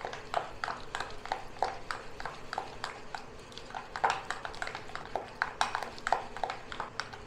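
Pitha batter being beaten in a bowl with a utensil: fast, steady clicking taps keep up a brisk, even rhythm close up, light and continuous throughout.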